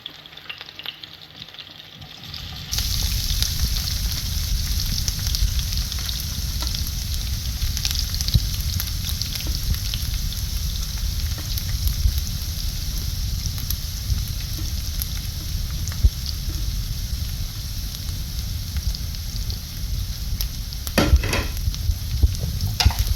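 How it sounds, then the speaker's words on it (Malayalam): Sliced onions sautéing in oil in a pan, a loud close sizzle and crackle that starts abruptly and holds steady throughout, with faint stirring scrapes. "അരിഞ്ഞു വെച്ചിരിക്കുന്ന സവാളയൊക്കെ ചട്ടിയിലോട്ടിട്ടൊന്ന് വഴറ്റിയെടുക്കാം"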